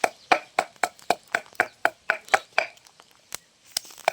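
Chili being pounded in a mortar for a Thai bean salad, about a dozen sharp, regular thuds in a steady rhythm, close and distinct, with a brief pause near the end.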